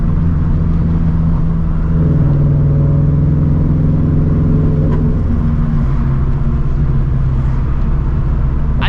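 A 400hp turbocharged Toyota FRS engine pulls hard under acceleration, a loud, continuous droning rumble that climbs steadily in pitch throughout, alone without speech.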